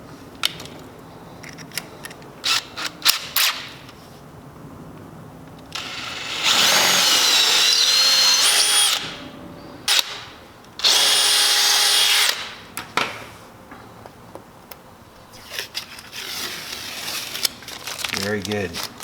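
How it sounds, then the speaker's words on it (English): A power drill bores 1/4 inch holes through a stainless steel cavitation plate for a classic plywood boat, two loud, steady high-pitched grinding runs of a few seconds each, separated and surrounded by softer handling clatter and talk. "now we're gonna go ahead and finish with our 1/4 inch hole"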